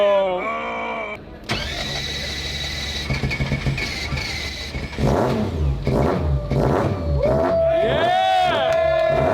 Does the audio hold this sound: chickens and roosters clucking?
no